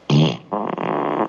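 A fart sound effect played by an Alexa smart speaker, two quick blasts: a short loud raspy burst, a brief gap, then a longer buzzing, sputtering one, close and isolated.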